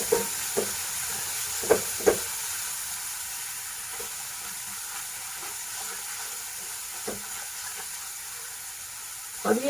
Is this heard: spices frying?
yes